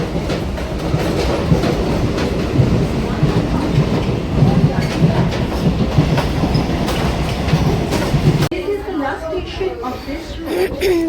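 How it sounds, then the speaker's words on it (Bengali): A train from Bagula rumbles steadily along the tracks with rhythmic clatter and loud, close wheel noise; near the end the roar drops and background voices become audible. "আটটা বাজে বগুলা থেকে ট্রেন ছাড়লো"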